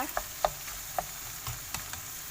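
Macaroni with minced pork stir-frying in a pan, a soft steady sizzle broken by sharp clicks and scrapes of a spatula against the pan, close and fairly quiet.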